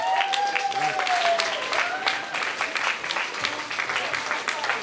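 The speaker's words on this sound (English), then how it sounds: "please give a warm round of applause for the man himself, Mr. Jay Douglas." Warm applause from an award-ceremony audience greeting a legend award honoree, a dense, steady clatter of many hands with crowd voices and cheering mixed in throughout.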